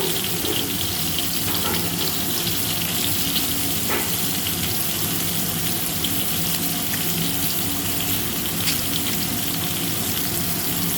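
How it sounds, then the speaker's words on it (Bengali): Potatoes and eggs fry in a kadai, giving a dense, continuous sizzle and crackle with a few sharp pops, close and even throughout, no one speaking. "আর আলুগুলো কড়াইয়ের মধ্যে ভাজার জন্য দিয়ে দিয়েছি।"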